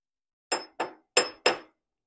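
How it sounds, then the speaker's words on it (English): A small hammer taps nylon door hinge pins on an RA24 Toyota Celica, giving four sharp, close metallic knocks in quick, slightly uneven succession, with silence between them and no talking. "we're gonna use a baby hammer to make sure we don't mess this up"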